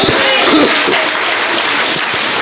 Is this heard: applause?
yes